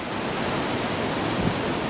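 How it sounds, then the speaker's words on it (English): Waterfall at the top of Lynn Spout in Lynn Glen, heard as a steady, broad roar of falling water that fills the whole recording with no pauses and no voices. "Here we are just at the top of the Lynn Spout, a waterfall."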